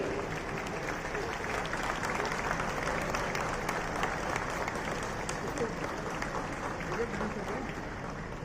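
An audience at a golden jubilee church celebration gives sustained, even clapping to welcome the Chief Minister. The applause is heard at moderate distance and runs without a break.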